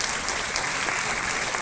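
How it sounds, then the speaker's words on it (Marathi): A crowd at a Women's Day gathering applauds loudly and continuously, a dense, even wash of clapping that lasts the whole short moment. "सगळ्यांसाठी यांच्यासाठी एकदा जोरदार टाळ्या वाजवा"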